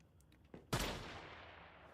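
Gunfire in the video game Warhammer 40K Rogue Trader, a faint shot followed by a single loud, close blast that decays into a lingering rumble.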